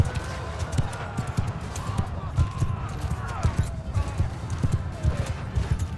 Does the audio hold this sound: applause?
no